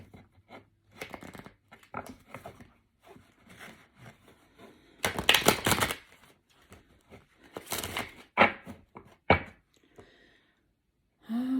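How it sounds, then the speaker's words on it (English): Close, intermittent papery riffling and soft slaps of tarot cards being shuffled, coming in uneven bursts with short quiet gaps between. "I also like to shuffle them in front of you so you see that the cards are being mixed up."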